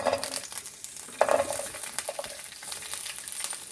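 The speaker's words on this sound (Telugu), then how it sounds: "పచ్చిమిర్చి వేయించుకోవాలి" Green chillies fry in a pan for coriander and tomato chutney, a close crackling sizzle with a brief louder spatter and light scraping of a utensil across the pan.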